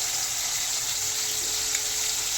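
Vegetable tempering sizzles in a pan with methi and brinjal, a steady, loud, dense hiss that runs without a break and has no talk over it.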